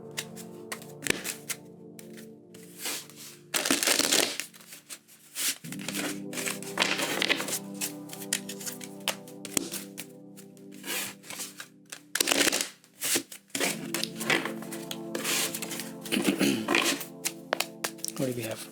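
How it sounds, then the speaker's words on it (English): Tarot cards are shuffled by hand in repeated riffling, rustling bursts with soft thumps of the deck, fairly close and moderate in level, spread across the whole stretch. "we're going to do 2 shuffles"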